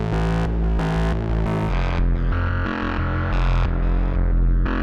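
A Majella Implexus synthesizer plays a sustained, harmonically rich sequence of tones with shifting overtones and repeated swells, loud and continuous with reverb and chorus, no voices.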